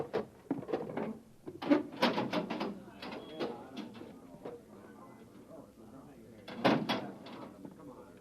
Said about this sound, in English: Now stand away from the door, Evans